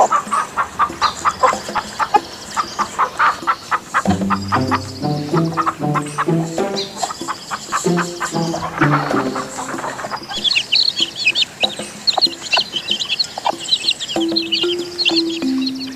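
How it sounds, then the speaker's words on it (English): A chicken clucks in quick, repeated bursts, loud and close, with a busy run of clucks and squawks and some chirping over a farmyard background, no talk. "chicken,"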